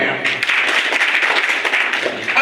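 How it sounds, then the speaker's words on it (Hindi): Audience clapping at a business seminar, a dense, loud burst of many hands applauding steadily for the whole stretch, with a voice faintly mixed in. "तो एक बार इस सिस्टम के लिए भी आगे तालियां बजाएं आप।"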